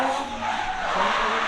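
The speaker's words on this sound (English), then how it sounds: "We're gonna sit here, hang out, watch some drifting." Cars drifting at a drift event, with a sustained, loud tire squeal and skidding over a roaring engine, steady throughout and with no voices.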